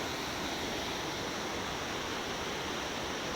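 Steady, dense roar of a mountain waterfall pouring continuously from a river, a constant broadband rush with no breaks, close and loud throughout.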